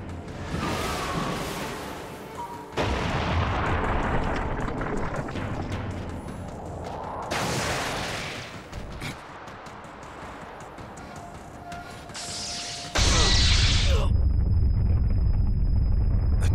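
Sage Art White Extreme Attack explosions from the Naruto Shippuden Ultimate Ninja Storm 3 boss fight, a series of loud rushing blasts and whooshes in bursts, ending in a sustained heavy roar.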